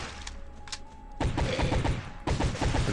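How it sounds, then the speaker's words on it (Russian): Gunfire in the video game Zombie Among Space comes as rapid bursts of sharp, loud shots, two volleys in quick succession after a quieter opening. "эти патроны, ребят, которыми мы сейчас в данный момент стреляем"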